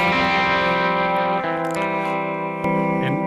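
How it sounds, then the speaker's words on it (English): Electric guitar played through an amp tone on a Kemper Profiler with tremolo, sustained distorted chords ringing with pulsing depth and a couple of picked changes, loud and alone. "even if you turn the tremolo a little bit up, you get the depth."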